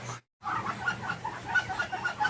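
Several hens cluck continuously nearby, a busy overlapping chatter, briefly cut by a moment of silence near the start.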